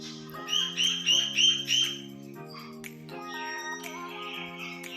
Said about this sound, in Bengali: দুটো শালিক দেখো